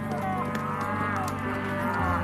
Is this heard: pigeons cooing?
no